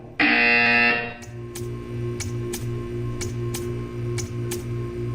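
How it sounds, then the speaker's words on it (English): A loud, sustained electronic buzzer tone from the video game Portal 2 sounds for about a second, followed by a steady mechanical hum with regular ticking clicks. "You will hear a buzzer."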